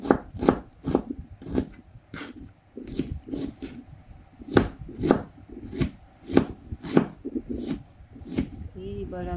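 A knife chops shallots (red onions) on a board while preparing squid curry, with a series of sharp, close chops in uneven bursts, some in quick pairs. Talking runs between and over the cuts.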